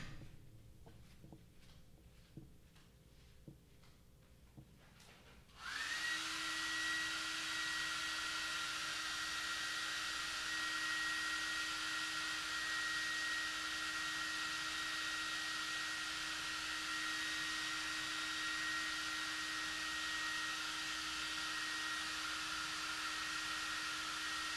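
A hair dryer starts up and blows steadily at close range to dry watercolor paint on paper, a loud continuous whooshing hum with a faint tonal whine that follows some quieter handling noises.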